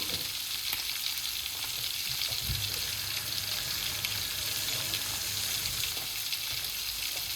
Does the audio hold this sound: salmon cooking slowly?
yes